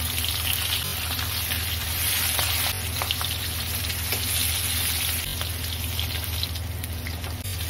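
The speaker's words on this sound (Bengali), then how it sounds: "এক পিঠ হয়ে গেছে মাছের ভাজা।" Pieces of fish frying in hot oil in a pan for a fish curry, a loud, steady and dense sizzle that runs without a break and with no voice.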